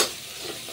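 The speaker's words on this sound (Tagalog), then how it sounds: "Yan, nagigisa ko na yung bawang, sibuyas, luya." Garlic, onion and ginger sautéing in a pan for chicken tinola, a short steady sizzle with stirring that stays close and even throughout.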